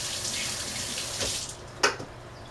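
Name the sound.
rinsing hands under running tap water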